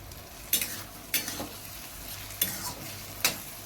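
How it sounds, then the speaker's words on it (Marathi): Bharit-style brinjal bhaji with coriander is stirred in a pan, four evenly spaced spatula scrapes sounding over a low, continuous sizzle. "त्यात आपण थोडीशी कोथिंबीर घालूया आणि परत एकदा मिक्स करू"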